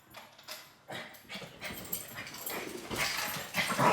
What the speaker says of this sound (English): I don't know why my dogs decided to fight right now.